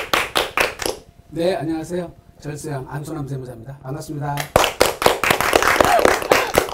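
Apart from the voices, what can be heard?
studio clapping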